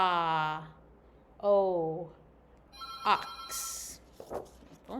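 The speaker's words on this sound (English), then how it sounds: "Phone's ringing." A telephone rings in short electronic bursts among spoken syllables, with a voice talking before and around the ringing in a quiet indoor setting.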